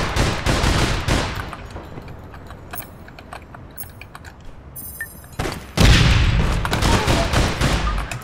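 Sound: grenade explosion and gunfire in video game APB Reloaded

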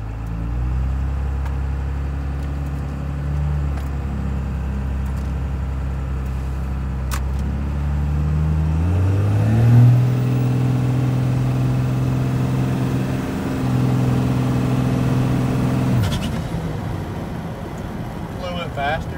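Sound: Cummins diesel truck driving after timing advance

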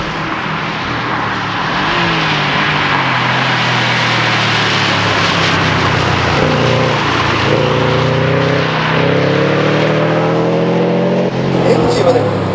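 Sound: Subaru Impreza GC8 engine while driving

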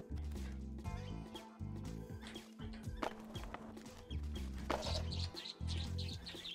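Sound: bird chirping in the video game Skatebird

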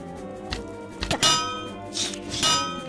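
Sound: shield breaking in a Minecraft adventure map (video game)

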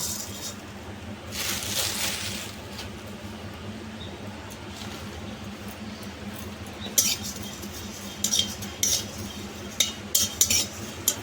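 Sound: fennel seeds dry-roasting and stirred in a hot pan

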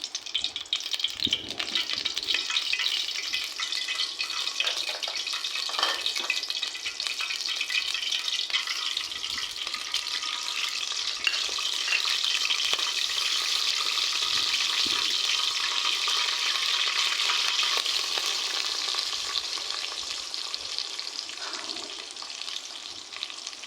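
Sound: chicken meat frying in oil in a pot

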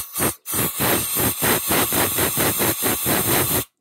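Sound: compressed air from an airline hissing through a Honda XR250 exhaust port

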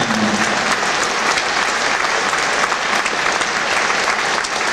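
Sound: audience applause for a performer

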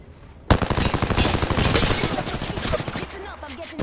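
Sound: gunfire in Apex Legends video game

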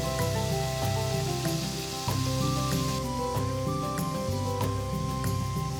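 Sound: pork frying in sesame oil

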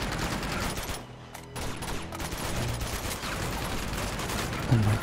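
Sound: gunshots fired in the video game Uncharted 2

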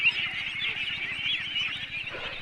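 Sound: ducks on a farm

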